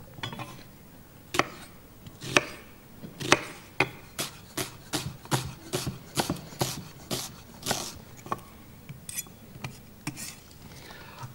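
Knife on a cutting board finely chopping onions, a run of quick sharp taps that start sparse and settle into a steady, fairly fast rhythm, close and clear with no talking.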